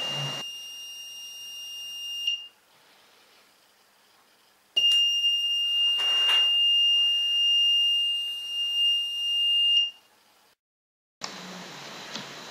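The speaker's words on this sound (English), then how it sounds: "the buzzer and yellow LED should be turned on for 5 seconds and then turned off" A high electronic buzzer on a PIC microcontroller alarm circuit sounds in a sustained tone for a couple of seconds, falls quiet, then sounds again for about five seconds; clear and close.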